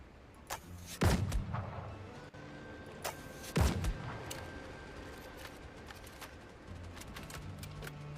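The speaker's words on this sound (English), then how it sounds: "let's try out this new pistol" Pistol shots fired in the video game Windrose, two sharp, loud reports about two and a half seconds apart over a quiet ambient game background, with faint smaller clicks between.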